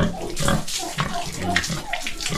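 Pig grunting on a small backyard farm, a run of short grunts and snorts close to the microphone, with a voice talking over them and a faint watery background.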